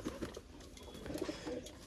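Soft, close cooing from pigeons, a few repeated low calls over quiet background noise.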